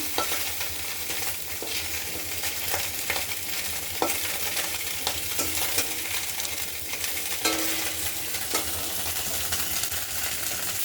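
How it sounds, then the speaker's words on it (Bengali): Fish fry in hot oil, a few pieces at a time, with a dense, steady sizzle and crackle throughout and occasional light stirring clinks close by. "বন্ধুরা দেখো, মাছগুলো ভেজে নিচ্ছি সুন্দর করে।"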